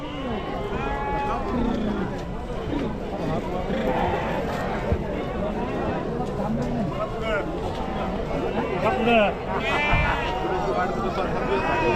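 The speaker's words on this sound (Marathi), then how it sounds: "तर पाहू शकाल अशा प्रकारे आजचा मेंढ्यांचा बाजार आहे" Sheep bleat repeatedly at a busy sheep and goat market in Chakan, Maharashtra, their calls rising over a constant crowd murmur, shuffling hooves and nearby talking.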